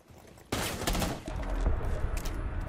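Gunfire in the video game Rainbow Six Siege, a sudden loud burst of rapid shots that keeps rattling on densely for about two seconds, alone without talk.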